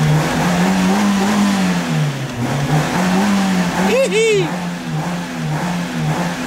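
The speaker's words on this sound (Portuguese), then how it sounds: "Já tá redondo já o motor lá." Fiat Uno engine revving hard in rising and falling surges, loud and close, with a brief high squeal or whistle midway and a short shout over it.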